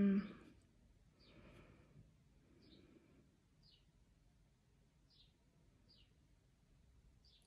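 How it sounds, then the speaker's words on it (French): Outdoors, a bird gives short, faint high chirps at regular intervals of about a second, after a brief burst of louder sound at the start, the background otherwise quiet. "j'entends les oiseaux"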